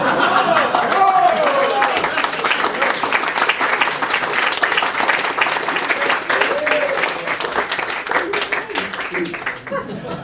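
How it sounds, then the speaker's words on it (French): A large audience at an anniversary opening ceremony breaks into sustained applause, dense clapping with scattered laughter and chatter mixed in, holding steady before tapering slightly at the end. "je vous demande de m'applaudir"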